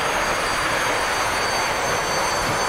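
A Sea Harrier jet engine in a naval battle video game roars as a steady, loud, broadband rush that fills the whole short stretch without a break.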